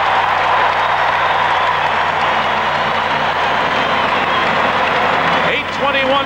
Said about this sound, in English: the crowd in Michigan is loving it